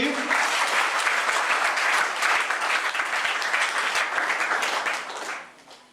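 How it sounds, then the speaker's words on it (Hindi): A church congregation claps for the Lord, a dense loud burst of applause that rolls on evenly for several seconds, then thins and fades away. "ताली बजाएंगे इस प्रभु के लिए।"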